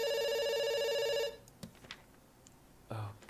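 A telephone rings in the video game Dr. Langeskov, The Tiger, and The Terribly Cursed Emerald, a bright repeating electronic ring for just over a second before it cuts off, followed by a few faint clicks.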